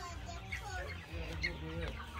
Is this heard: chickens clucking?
yes